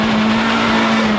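A 2024 Acura Integra Type S launching hard, its engine roaring loud and close with a steady droning note and tire noise, brief and unbroken.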